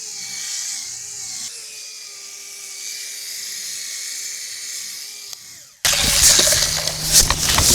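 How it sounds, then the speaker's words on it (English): A rotary polisher tilted on its edge cuts scratches and swirls out of car paint, giving a steady, close, high-pitched whine for several seconds before it cuts off abruptly into a louder, rougher burst of noise. "when you put this rotary up on edge, it cuts these scratches and swirls out of the paint so fast"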